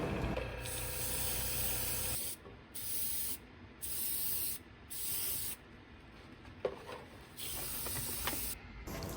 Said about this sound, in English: I gave everything a coat of Vallejo polyurethane gloss varnish